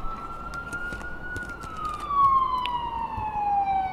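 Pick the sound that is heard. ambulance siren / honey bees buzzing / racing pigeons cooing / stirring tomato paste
ambulance siren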